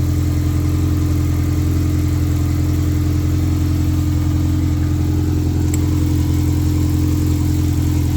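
A K-swapped hatchback sits idling during a radiator flush, its engine giving a loud, steady low hum with even pulsing tones that hold unchanged throughout, with no talking.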